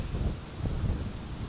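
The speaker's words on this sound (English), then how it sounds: "it's pretty windy" Strong wind buffets the microphone outdoors beside a railway line, a steady low rumbling roar with gusty swells that holds for the whole short stretch, with no voices over it.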